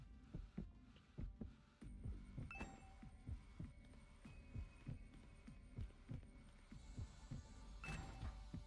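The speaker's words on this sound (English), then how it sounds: "The heartbeat sound is helpful." Heartbeat sound effect in the video game Hundred Line Last Defense Academy: a steady, close, loud pulsing throb of low thumps repeating roughly twice per second over a faint hum, with no talking.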